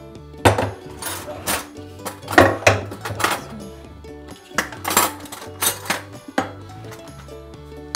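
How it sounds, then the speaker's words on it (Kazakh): Utensil stirring cream into melted chocolate for ganache, bright clinks and scrapes of a spoon against a bowl in repeated bursts, close and loud, with no voices. "араластырып ерітеміз шоколадымызды, яғни ганаш дайындаймыз"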